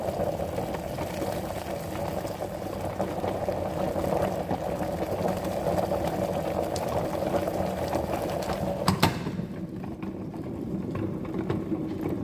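Eggs boil in a pot of water on a stove, a steady close bubbling simmer with a sharp clink partway through, after which the bubbling continues more quietly.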